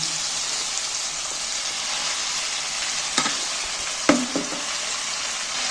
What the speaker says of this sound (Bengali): আমি একটু মশলাগুলোর সাথে শাকগুলোকে নাড়াচাড়া করে দিচ্ছি নেড়ে দিচ্ছি উল্টে পাল্টে